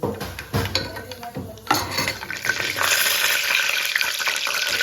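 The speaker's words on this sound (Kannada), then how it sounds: "ಇದೆಲ್ಲ ಚೆನ್ನಾಗಿ ಫ್ರೈ ಆಗಬೇಕು" Pulao ingredients frying in a pan, with a steady sizzle rising as a utensil scrapes and clinks against the metal in a few quick strokes, close by and without talk.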